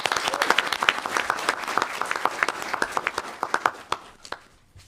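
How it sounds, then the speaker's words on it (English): An audience at a school board meeting gives a round of applause for national-champion students, the clapping full and lively at first, then thinning into scattered individual claps before fading out. "Let's give them a round of applause."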